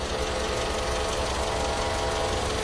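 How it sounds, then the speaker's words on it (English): Car engine idling with the hood open during a fluid flush at an auto shop, a steady close mechanical hum and low rumble with no talk over it. "Yes, the engine has to be running."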